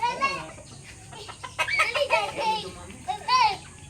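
Chickens and chicks cluck and peep close by in a yard, with a voice and other talk mixed in among the calls.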